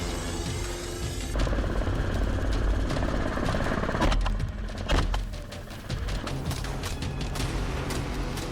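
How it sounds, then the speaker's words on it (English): A helicopter used for hunting wild boar over crop fields drones loudly and steadily, with a broad engine and rotor roar and a few sharp crackling bursts in the middle. "The scene shifts to hunting from a helicopter."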